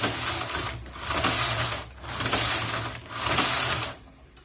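A Toyota knitting machine carriage slides back and forth across the needle bed knitting a cast-on row, making three loud, rhythmic whirring, rattling passes separated by short pauses.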